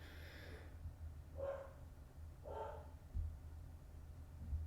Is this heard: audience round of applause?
no